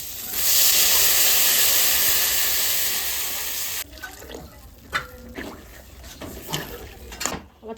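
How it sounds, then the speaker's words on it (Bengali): Water is poured into a pan of curry with green chillies, raising a loud, steady steam hiss for about four seconds that then cuts off, followed by scattered utensil clinks and soft knocks. "জল দিয়ে দেবো"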